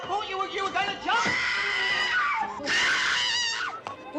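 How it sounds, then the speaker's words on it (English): Loud screaming and wailing voices in a 1967 British comedy film scene, high shrill cries rising in bursts over several seconds, with some speech mixed in. "What's all the screaming?"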